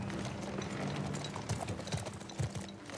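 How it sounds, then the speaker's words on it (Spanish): Horse hooves clip-clop in the video game The Last of Us Part II, a quick run of soft, irregular thuds close by against a busy background. "aquí ya se va solito el caballo"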